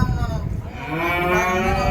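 Cattle moo at the Vaniyambadi cattle market, a drawn-out bovine call rising and sustained close by over a busy crowd murmur.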